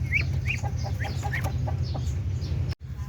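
Native chickens cluck in a series of short, repeated calls over a steady low farmyard hum, with the fowl sounding fairly close and no voices present.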